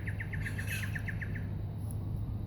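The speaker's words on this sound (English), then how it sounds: "oh, these are swallows. Yes, that's swallows on the surface there" Swallows chirp over a lakeside water surface, a quick series of about ten high, thin tweets in a rapid even burst, then quiet, heard over a low steady background rumble.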